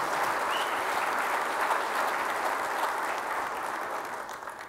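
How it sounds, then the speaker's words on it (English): Dense audience applause at the 2015 ACCA Big Bang conference, a continuous wash of many hands clapping that holds steady and then tapers slightly toward the end. "So let's give him a round of applause."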